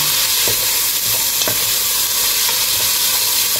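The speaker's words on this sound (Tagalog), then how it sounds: "Luto lang ako ng ulam" A dish for dinner being stirred and fried in a pan: a steady, close sizzle runs throughout, broken by several soft scraping stirs. No one speaks.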